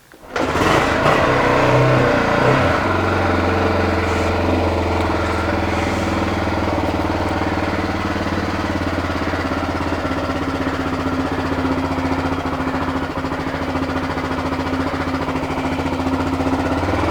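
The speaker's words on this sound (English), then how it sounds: "This bike does start on the first kick quite often." Honda XR600R single-cylinder motorcycle starts on a kick and settles into a loud, close, steady throbbing idle with slight revving, running continuously throughout without talk.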